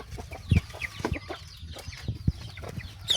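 Young chickens about two months old, soft clucks and short peeps from a small flock, scattered and fairly quiet, with a couple of sharper calls standing out.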